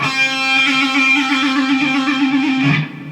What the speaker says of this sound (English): bang it down on the whammy bar like so